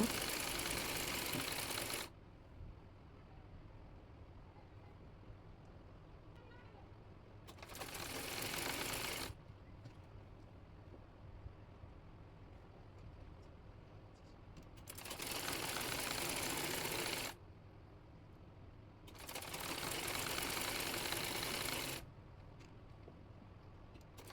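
Sewing machine stitching the side slit of a kameez made from yard fabric with lace, running in four separate bursts of a few seconds each with quiet pauses between.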